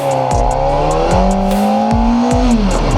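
A Kawasaki Ninja ZX-4RR motorcycle revs loudly up through its gears, the high engine whine climbing, dropping sharply at each quick shift, then climbing again, close and continuous.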